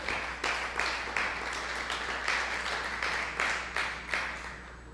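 Church congregation applauding, the clapping swelling in regular beats about three times a second, like rhythmic applause in unison, moderately distant and steady for five seconds.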